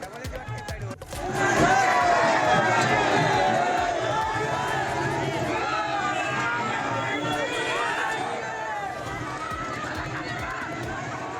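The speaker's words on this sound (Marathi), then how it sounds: "ही रथ यात्रा पाहण्यासाठी पंचक्रोशीतील भाविक भक्त गावकरी यांची गर्दी पाहायला मिळते." Crowd of devotees and villagers at a village chariot festival in Maharashtra, a dense roar of many voices and shouts that swells after a quieter opening and stays loud and busy to the end.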